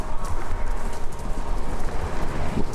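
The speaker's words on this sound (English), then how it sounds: "Sounds like horses." Horses running on a radio station in the video game Kentucky Route Zero: a steady, galloping clip-clop of hooves over a rough, hissing background, continuous and moderately loud.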